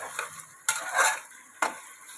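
A spoon stirs tomatoes and green peas in a pan for corn rava khichdi. Two sharp scraping strokes stand out over a faint background sizzle, and nobody speaks.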